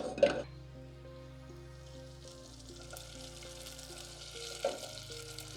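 Tomato paste cooking gently in olive oil over low heat, a soft, quiet sizzle under a steady background hum and tones, with two sharp utensil knocks at the start and near the end.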